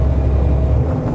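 Loud, steady low rumble and drone fill the cab of a Ural Next truck tractor while driving, a constant engine and road roar with no pauses.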